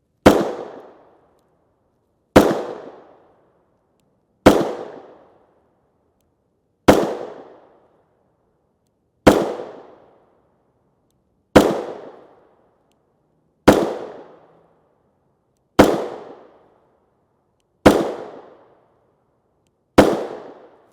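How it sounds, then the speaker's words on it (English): Ten evenly spaced, loud, sharp gunshots from a 4-inch Glock 19 Gen 4 MOS firing 9mm 124 grain FMJ rounds, each crack decaying quickly, about two seconds apart with silence between. "This is our 4-inch Glock 19 Gen 4 MOS with the factory RDS cut"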